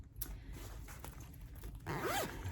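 A quick zipper pull rasps open once on a knitting project bag, a short bright zip after some light handling and rustling of the bag nearby.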